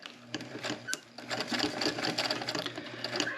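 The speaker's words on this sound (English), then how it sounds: "Now let's sew our straps, top stitch them." A sewing machine top-stitches fabric bag straps with an eighth-inch seam along the edge, whirring steadily and close up in a continuous run with brief pauses.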